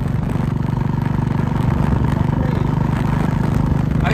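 A motorcycle engine on a road ride through Parbhani, a loud, steady, close-up drone with a constant low throb, running evenly throughout with no talk.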